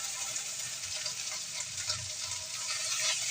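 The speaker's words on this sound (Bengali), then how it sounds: "এখন খিচুড়ি ঢেলে দেওয়া হচ্ছে।" Khichuri fries in a pan with garlic and onion, giving a steady close hiss and crackle of sizzling oil with faint stirring movements underneath.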